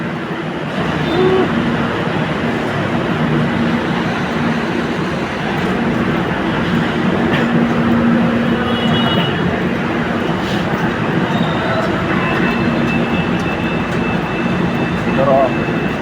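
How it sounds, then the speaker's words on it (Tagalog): A Metro Rail Transit (MRT) train rumbles steadily nearby with a continuous roar and faint squeals, while people talk over the noise. "Yan po ay ang MRT train."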